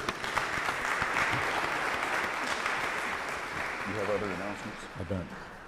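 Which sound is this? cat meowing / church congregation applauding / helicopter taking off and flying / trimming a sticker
church congregation applauding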